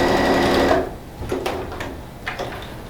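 A sewing machine stitches fabric with a backstitch, its needle chattering in a loud, steady whir for under a second before stopping, followed by a few quieter mechanical clicks and taps.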